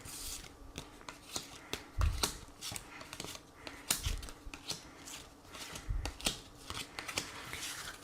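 Tarot cards are shuffled by hand for a reading in repeated soft riffles and slaps, with several louder thumps of the deck landing at intervals, close and fairly quiet.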